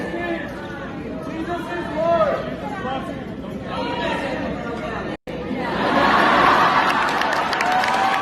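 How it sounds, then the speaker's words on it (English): A rally crowd cheering and shouting, played back through a phone recording: a dense babble of many voices that cuts out briefly, then swells louder and brighter into excited cheering. "the crowd goes crazy"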